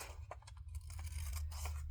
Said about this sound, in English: Just going to take my scissors and come in here and just cut around